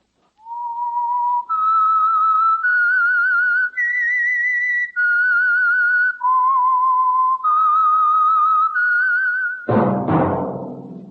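The Whistler old-time radio theme: a clear whistled melody of sustained, steady notes stepping up and down, loud and close, ending in a sharp burst of noise.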